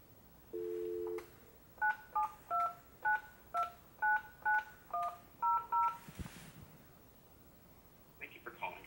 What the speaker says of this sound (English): I can just dial the number that I'd like to call.